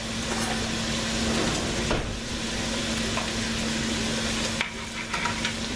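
Turkey penne sauce sizzles steadily in a pan with garlic added, a constant loud frying hiss broken by occasional scraping stir strokes.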